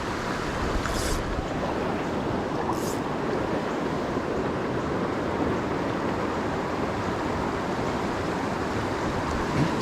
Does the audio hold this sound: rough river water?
yes